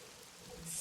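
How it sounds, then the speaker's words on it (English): Steady, soft rainfall for a tabletop fantasy role-playing session, a gentle, even hiss with no thunder, low in level. "As you all come back through, the first thing that you notice is the rain"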